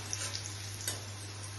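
Pointed gourd frying in a pan until dark, a faint, steady sizzle with a few soft ticks and a low hum underneath, heard briefly with no talking.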